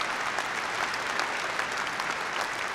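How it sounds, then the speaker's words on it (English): An audience at a university spring commencement ceremony applauds the UND Wind Ensemble with dense, steady clapping, loud and unbroken from start to finish. "How about a round of applause?"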